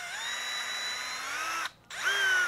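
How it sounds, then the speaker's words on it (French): Cordless drill-driver briefly whirring as it screws a bit onto a polyester threading needle, a close high-pitched motor whine with a short pause before spinning up again. "On vient fixer l'embout dans le mandrin de la visseuse"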